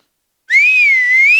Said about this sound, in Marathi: बाई खरी शिट्टी वाजवते